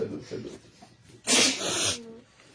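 A person gives a single loud, sharp sneeze partway through, preceded by breathy noises and a voice speaking quietly, with a brief vocal trail afterward.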